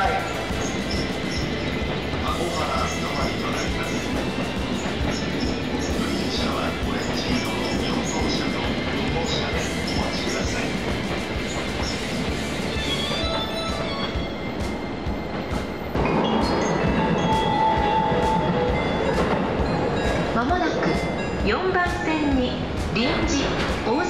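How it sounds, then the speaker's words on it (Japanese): A Sotetsu 12000 series train rumbles into platform 4 of a station on the Yamanote line, its roar growing louder partway through, with a platform announcement and general crowd noise over it. "4番線電車到着です。"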